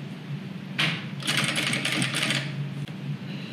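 A domestic sewing machine stitches a fabric hygiene kit with towel, whirring in a steady rapid buzz that starts and pauses in short bursts, close and fairly loud, with no talk over it.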